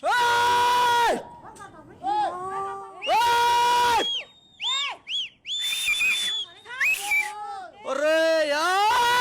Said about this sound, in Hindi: फिर शुरू हुई जिंदगी बचाने के लिए चीख पुकार